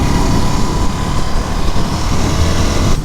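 A 2022 Ducati Scrambler 1100 motorcycle engine runs hard at speed, a loud, steady roar with broad wind rush that holds continuously throughout, with no talking.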